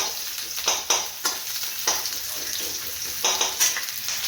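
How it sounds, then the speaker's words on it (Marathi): Onion browns lightly in hot oil for an eggplant and potato dish. A steady sizzle is broken by repeated spatula scrapes and stirring bursts, with no talking. "तो तेलामध्ये भाजून घेणार आहे काळा नाही खूप काळा नाही होऊन देणार अगदी थोडंसं लालसर होऊन देणार आहे"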